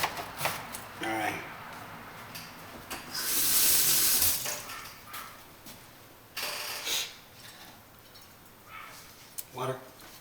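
A kitchen tap runs for a few seconds while leftover turkey soup is being made, a steady hiss of flowing water. Scattered clatter comes before and after it, with brief quiet speech.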